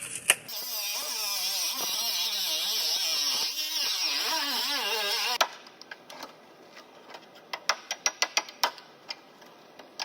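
A power tool makes the final cut on a car floor extension panel: a loud, sustained whine with a wavering pitch for about five seconds. It stops abruptly and is followed by a series of sharp metallic taps and clicks.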